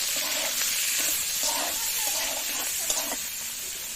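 Boiled soybeans hiss and sizzle in hot oil in a pan, a steady close frying crackle with soft stirring scrapes now and then, no voices over it.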